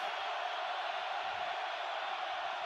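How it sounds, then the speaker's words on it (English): Roaring stadium crowd at a college football game, Oklahoma versus Ohio State in 2017, a dense, steady wall of noise heard from field level without letup. "Crowd has come alive down here on field level"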